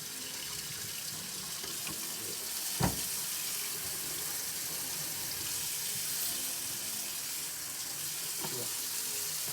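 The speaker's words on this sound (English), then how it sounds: "I turned the water on, check the wet temperature." Tap water runs steadily into a basin during a nursing bed-bath or catheter-care setup, a constant broadband wash with one brief clunk near the start and no talking.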